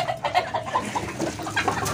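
A broody golden hen sitting on her eggs makes soft, close clucking calls in a steady, irregular rhythm against low background noise.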